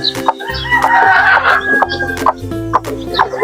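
Chickens and chicks in a yard cluck and chatter close by, with repeated short clucks and calls layered over one another and faint peeping in the background.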